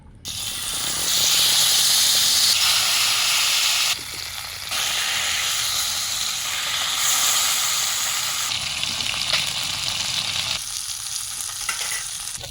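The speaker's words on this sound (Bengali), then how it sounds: "মাছটা সুন্দর করে মাখিয়ে নিলাম এবার ভেজে নেবো" Loud, steady sizzling and hissing of fish coated in gram flour, turmeric, chilli, cumin, ginger and garlic frying in hot oil, close up, with brief dips and occasional stirring clicks and no voices.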